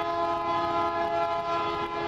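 A train rolls through while its horn holds a steady, loud, sustained blast over the rumble of the rail cars, with no talking.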